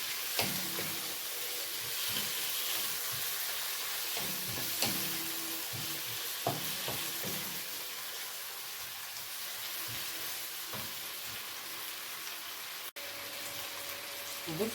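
Vegetables sauté in a pan for potatoes with sausage, a steady close sizzle running throughout with intermittent scrapes and clinks of stirring.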